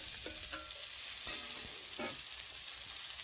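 Corn kernels fry in a pan with cumin and chili under a faint, steady sizzle, broken by a few soft scrapes and taps of a spatula stirring them, quiet and close.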